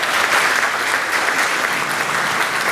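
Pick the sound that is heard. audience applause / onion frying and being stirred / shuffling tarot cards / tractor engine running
audience applause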